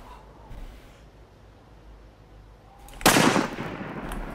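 Gunfire in the video game DayZ: a faint shot early on, then a sudden loud, sharp crack that echoes and rumbles as it decays. No voices are heard.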